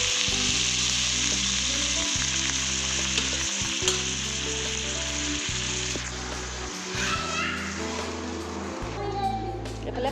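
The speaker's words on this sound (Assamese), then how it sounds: "এইফালে পানী দি দিছোঁ আৰু আলুখিনি ভাঙি দিম" Potatoes frying in a pan steadily sizzle as hot water is poured in, with a constant frying hiss and stirring throughout.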